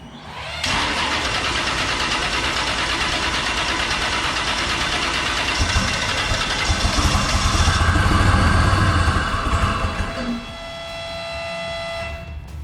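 A turbocharged LS engine fitted in a 1956 Chevrolet Bel Air starts for the first time. After a brief crank it catches and runs loud and rough for about ten seconds, rising slightly before it drops off. A high turbo-like whine lingers at the end.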